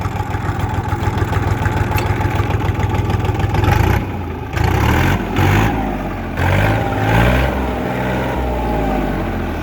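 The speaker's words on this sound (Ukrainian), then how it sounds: "Трактор працює гарно" The small diesel engine of a Kentavr 244SX mini tractor, a KM385VT, idles steadily up close with a low, even chug, its tone shifting slightly partway through.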